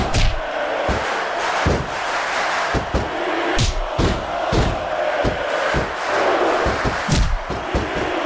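An arena crowd roars without a break in WWE SmackDown vs Raw 2006, a wrestling video game. Heavy slams and thuds from the ring punch through the steady cheering.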